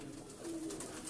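Breeder pigeons imported from India coo faintly in a soft, low murmur over quiet background noise at a Lahore pigeon fancier's loft.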